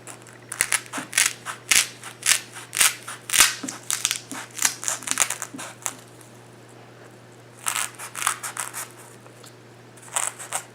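Styrofoam ball being trimmed down with scissors for a DIY snowman, giving close, crisp crunching and snipping bursts in irregular clusters, then a pause before a few more cuts.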